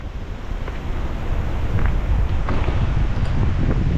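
Strong typhoon wind gusts buffet the microphone on a rugged mountain road from Bangued, Abra to Nueva Era, Ilocos Sur, a loud steady low roar with rising surges and no talk.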